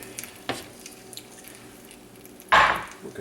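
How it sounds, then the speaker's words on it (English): Red wine hits hot veal bones in a hotel pan with a sudden, brief sizzling hiss, close and fairly loud against quiet kitchen background, after a smaller earlier clatter. "hear that deglaze right there"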